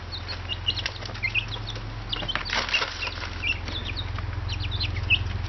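Chickens gather at a water container set in a stream, giving soft scattered chirps and clucks with some wing flutters over a low steady hum, with no talking.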